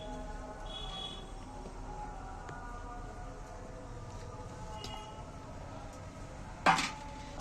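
A cooled cinnamon piece and two cloves drop into a mixer jar, making one short, sharp clatter near the end against a steady, low room hum.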